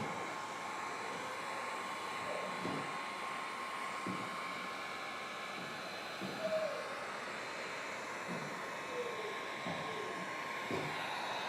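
A heat gun blows a steady, airy roar while heating windshield tint film on a Ram, continuous and fairly faint, with occasional soft handling noises and movement over the film.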